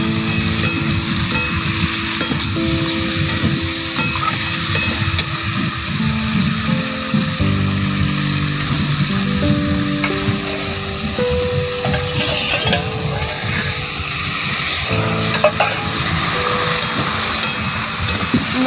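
Fried potato and moringa drumsticks stirred into masala in a pan, with a loud, steady sizzle and continuous scraping and clinking of the spoon, close up and without talking throughout.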